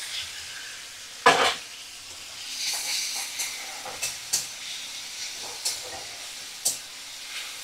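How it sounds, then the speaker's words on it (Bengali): Shrimp frying in a pan over a medium flame for Bengali lau chingri, a steady close sizzle and hiss broken by sharp pops and spatters throughout, with no talking. "আর চিংড়ি মাছগুলো মিডিয়াম ফ্লেমে রেখেই ভাজা করব।"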